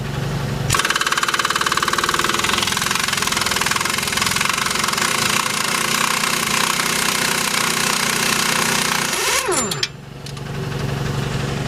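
An air impact wrench hammers loudly and steadily at close range for about nine seconds while loosening a rear wheel bearing nut on a Nissan 280ZX, then winds down sharply and stops as a lower engine-like hum continues.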